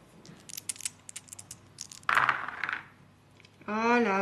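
A quick rattle of three dice tumbling and clicking across a table during a War of the Ring board game, then a brief voice comes in near the end.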